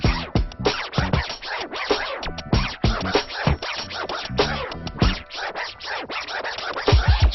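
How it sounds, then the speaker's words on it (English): Rapid, choppy turntable record scratching fills the clip, a dense run of short back-and-forth scrubbing strokes with no talking. "that was like the birth of scratching"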